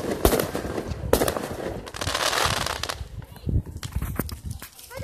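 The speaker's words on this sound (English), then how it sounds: "We was watching fireworks." Fourth of July fireworks bursting repeatedly, sharp booms and crackles recurring through the sequence at moderate distance, mixed with crowd noise and people talking nearby.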